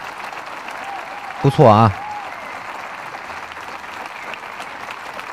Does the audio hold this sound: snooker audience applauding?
yes